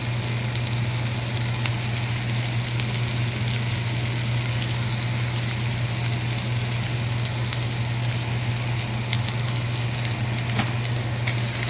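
Sliced onion with ginger garlic paste frying in a pan for korai paneer gives a loud, continuous close-up sizzle with scattered small pops, steady throughout, with no talking over it.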